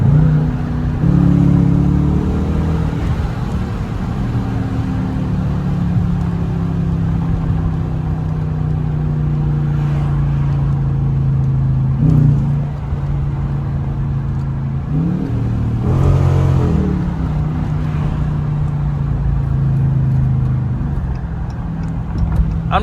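A 2021 Dodge Challenger R/T drives on a slippery road, its engine rumbling loud and close as it accelerates in rising revs with several shift dips and surges.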